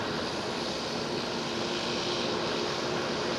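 A Delta Air Lines Airbus A330neo airliner at Amsterdam Schiphol, giving a loud, steady, full-bodied engine roar at close range that holds constant for a few seconds, with no talk.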